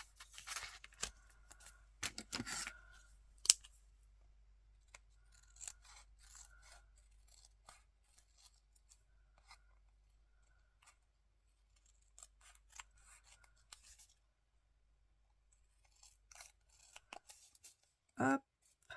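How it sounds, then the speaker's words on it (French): Scissors trim the excess paper from a collage card in a quiet room, making crisp snips that come in short irregular clusters, close and fairly soft, with a louder final cut near the end. "On va couper l'excédent."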